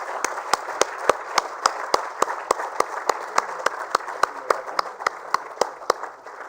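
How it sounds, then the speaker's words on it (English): Audience applause at a sanitation awards ceremony, a broad wash of clapping punctuated by a sharp, regular beat of louder claps, nearby and steady, keeping time for several seconds. "Big round of applause."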